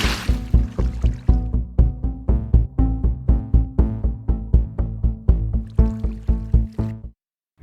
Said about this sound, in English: Add water in all edges to hide any bald spots.